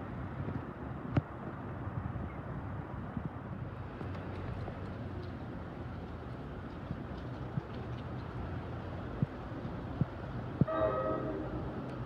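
Three trains rumble past at a distance at Ridgewood, New Jersey, with a steady low roar, scattered clanks, and a horn sounding faintly near the end.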